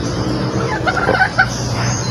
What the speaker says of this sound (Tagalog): Ang ganda po sukat ito, malaking manok to.